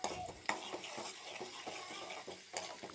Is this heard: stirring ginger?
yes